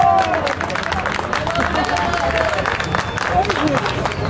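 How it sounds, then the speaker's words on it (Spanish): A crowd at a norteño music show in San Nicolás de los Garza applauds to welcome the singer, loud continuous clapping mixed with shouts, whistles and crowd babble throughout. "Vamos a pedir un muy fuerte aplauso para recibirlo"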